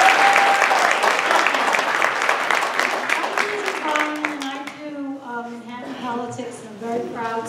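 Audience at a public school funding forum applauds in a sustained burst of clapping that gradually thins out, as a speaker begins talking over the fading applause.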